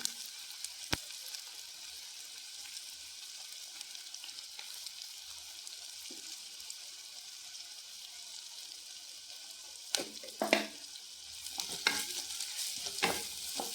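Sliced onion and green chilies frying in coconut oil in a pan, a steady soft sizzle throughout with occasional stirring scrapes and clatter toward the end, fairly faint and with no talking.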